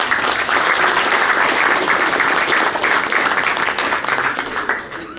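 A banquet crowd applauds the Booster Club of a boys varsity basketball team, loud continuous clapping that holds steady before tapering off near the end.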